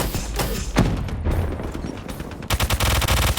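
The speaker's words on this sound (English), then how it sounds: "Just listen to the noise of the Hive destroying these people." The Hive specialist weapon from Call of Duty: Black Ops 3 killing several players, dense bursts of rapid gunfire-like blasts and thumps, loud and close, ending in a fast rattling barrage.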